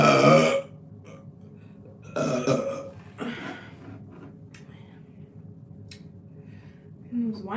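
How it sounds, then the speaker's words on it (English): A woman lets out burps after drinking wine, one short burst at the start and a longer rumbling one a moment later, close and moderately loud, with soft breathy sounds and quiet gaps between. "Those wine burps are nice when they finally come out."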